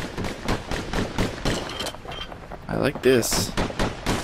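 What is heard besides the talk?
slinger pistol shots in the video game Bastion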